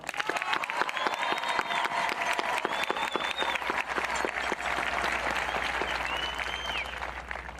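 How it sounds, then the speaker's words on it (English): A crowd at a high school graduation gives a long, loud round of applause for the principal, dense continuous clapping with scattered cheers and whistles rising over it. "could you please give another tremendous round of applause for our principal, Mr. Carl Morano"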